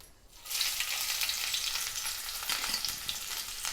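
Finely chopped garlic, about seven or eight cloves, sizzles loudly and steadily in plenty of hot oil in a kadai, with faint stirring scrapes, alone with no voices.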